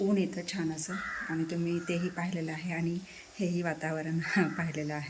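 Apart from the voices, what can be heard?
crow cawing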